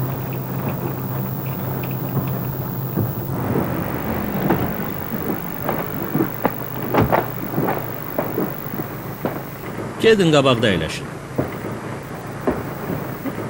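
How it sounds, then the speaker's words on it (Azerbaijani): Dense rain pours down steadily while low thunder rumbles and cracks. A voice speaks briefly near the end. "Bu yağış daşqın yaradacaq."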